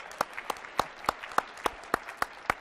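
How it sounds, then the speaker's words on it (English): Sparse, evenly spaced claps ring out at a conference opening plenary, about ten distinct hand claps in under three seconds, fairly close and moderately loud with no talk over them. "Round of applause for that."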